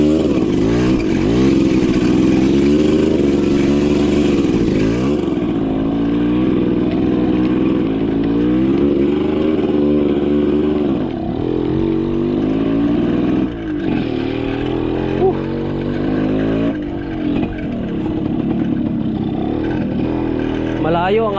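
A motorcycle engine drones steadily while the bike is ridden, with throttle rising and falling and someone talking over it throughout.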